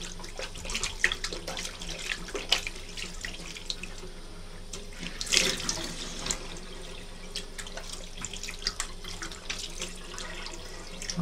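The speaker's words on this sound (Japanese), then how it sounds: "今水で洗ってるんですけど、全然泡が落ちないです。" Tap water runs steadily from a faucet into a sink while shaving foam is rinsed off, a continuous splashing hiss with small bursts and gurgles, close and fairly loud, with no talking.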